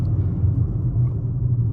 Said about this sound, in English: So let's just go ahead and get on the brakes pretty hard.